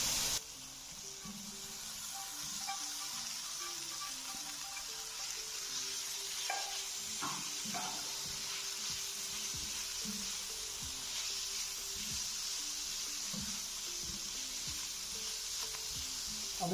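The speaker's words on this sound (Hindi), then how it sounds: "अब इसमें चिकन डालने लगा जो हमने तैयार करके रखा हुआ था।" Prepared chicken goes into a pan of sizzling vegetables for masala chicken pasta, a loud burst at the start and then a long, steady hiss of frying with occasional stirring knocks, close and continuous, no voices.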